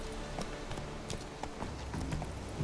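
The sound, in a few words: horse Roach galloping hooves in The Witcher 3 video game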